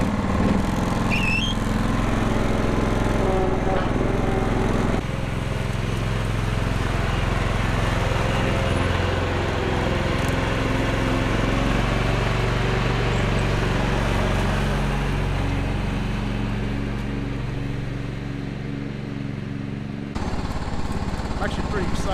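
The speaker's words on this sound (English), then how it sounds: "I got the old 1989 John Deere 185 out. Let's go get some grass cut." A 1989 John Deere 185 riding lawn mower running, a loud, steady low engine drone held close for the whole stretch, with a brief shift in tone partway through and no speech over it.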